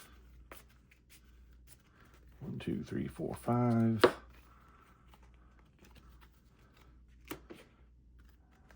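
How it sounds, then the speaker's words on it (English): Harry Potter Hogwarts Battle starting card decks being shuffled, a short burst of riffling and snapping cards in the middle, close by, with a voice counting before and talking softly around it. "So shuffle our starting decks."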